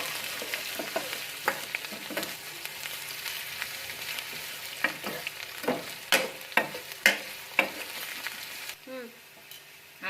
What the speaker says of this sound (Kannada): ಫ್ರೈ ಮಾಡ್ಕೋಬೇಕು ಗ್ಯಾಸ್ನ ಲೋ ಟು ಹೈ ಫ್ಲೇಮ್ ಫ್ಲೇಮಲ್ಲೇ ಇಟ್ಕೋಬೇಕು